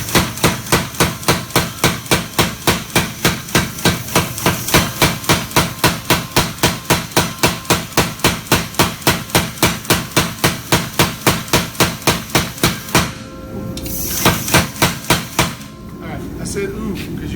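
Hammer forging the edge bevel of a chef's knife, a steady fast run of loud, ringing strikes on steel for about thirteen seconds, then a short pause and a few more blows against a low background hum.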